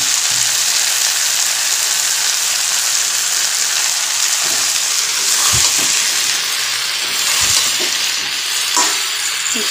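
Boiled jackfruit frying with spices in a wok, a steady loud sizzle throughout with occasional stirring knocks and scrapes, no voices.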